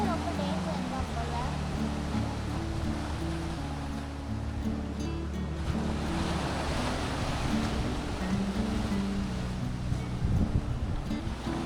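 Sea waves wash onto the shore near a temple and church at Mandaikadu, a continuous rumbling surf with wind buffeting the microphone, while people talk over it.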